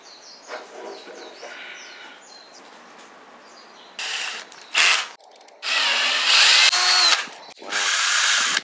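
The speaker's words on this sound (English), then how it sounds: "Now we're gonna drill this right into the back so we can stick this cork in" A power drill whines in several loud, sustained bursts as it bores into the back of a slingshot handle to make a hole for a cork, with quieter pauses and faint bird hoots between runs.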